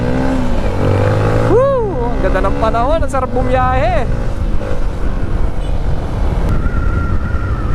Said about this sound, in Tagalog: Siyempre gamit natin yung motor guys, si 30.